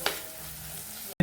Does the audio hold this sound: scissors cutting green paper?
no